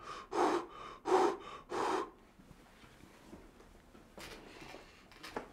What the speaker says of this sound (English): Can you hear my heavy breathing?